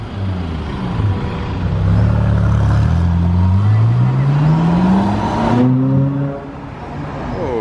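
A Ferrari 458 Aperta drives past on a street in Monaco, its engine note rising and swelling as it approaches, then falling away sharply as it passes, loud and close, with voices speaking over it.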